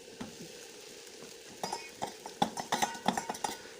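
Corn fried in a pan with spices, stirred with a metal spoon: soft sizzling under a run of quick, close clinks and scrapes that quicken in the second half.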